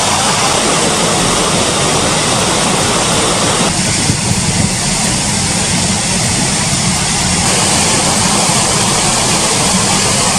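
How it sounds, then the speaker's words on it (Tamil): Floodwater after heavy rain pours down a waterfall in the Kodaikanal hills, a loud, unbroken roaring rush with a deep rumble underneath and no voices. "ஆறுகள் அருவிகளில் பெருக்கெடுத்து ஓடும் வெள்ளம்."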